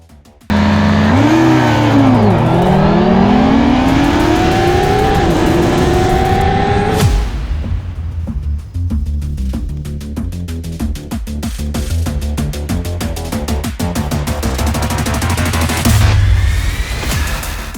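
A Honda CB650R motorcycle with E-Clutch revs hard and accelerates through rising gear pulls, then shifts into a rougher, pulsing engine note that builds again near the end, loud and close with no talk.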